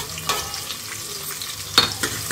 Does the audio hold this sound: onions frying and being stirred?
yes